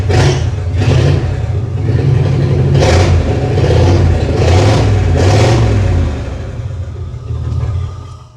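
Engine revving after a throttle linkage upgrade, with a loose alternator belt noted, repeated quick blips rising and falling over a loud rumbling idle, close and strong, a handful of throttle stabs before settling back down.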